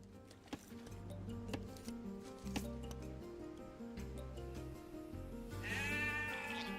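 Sheep bleat in the video game Age of Empires 2 over looping game music, with a few short bleats and clicks near the start and a louder, wavering bleat at the end.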